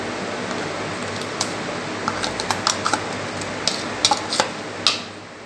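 A spoon stirs a mashed beetroot mixture in a pot, giving a series of light scraping clinks against the metal over a soft steady background hum.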